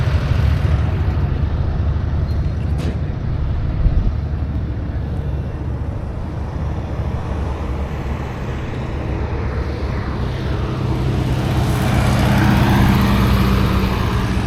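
An antique 435 tractor engine at an antique agricultural show in Georgia runs with a loud, steady low chugging drone, close by, rising slightly in intensity toward the end.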